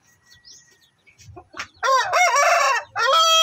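A rooster crows loudly up close, two drawn-out calls in a row, after a few soft clucks and rustles.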